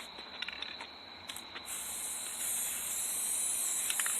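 Steady hissing spray from a can aimed onto a pumpkin, a continuous close aerosol rush that grows louder and more sustained partway through, with no talking.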